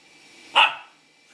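Dog named Odin gives a single short, sharp bark close by in an otherwise quiet room.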